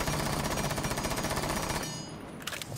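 A rapid, loud burst of MP7 submachine gun fire in Rainbow Six runs for about two seconds, a fast steady stream of shots that cuts off abruptly, leaving a faint tail.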